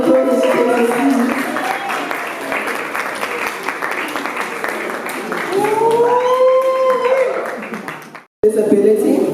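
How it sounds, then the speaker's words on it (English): Audience applause at the 2022 Ignite Youth Awards ceremony, sustained and loud for several seconds alongside music, then briefly cut off and resuming. "A round of applause for"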